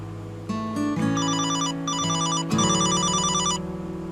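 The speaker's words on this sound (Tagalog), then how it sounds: "Cellphone ba yun ni Mahal?" A cellphone rings loudly and clearly with a repeating electronic ringtone melody of bright chiming tones in steady bursts, no voices over it.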